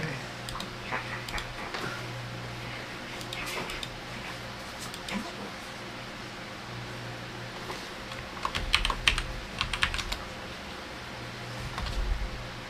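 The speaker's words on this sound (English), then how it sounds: "Your keyboard's been fucking up the last couple of times with the R button." Typing on a computer keyboard with a sticking R key gives steady, close clicking keystrokes, then a denser flurry of taps near the end, over low background hum.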